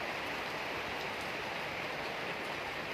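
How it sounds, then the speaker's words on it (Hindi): Heavy rain pours down at a restaurant, a dense, unbroken roaring hiss that stays loud and even throughout with no voices. "हाँ बारिश हो रहा है अभी बहुत कष्ट"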